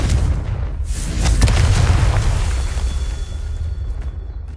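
Confringo blasting curse explosions in a Harry Potter game, a heavy rumbling boom swelling around the first second and a half and then slowly decaying, loud and close, with no voices.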